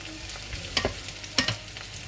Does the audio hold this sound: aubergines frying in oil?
yes